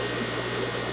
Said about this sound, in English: That's the impeller turning with no water.